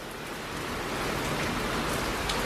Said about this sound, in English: hopefully this rain will calm down because it's starting to try to come inside the garage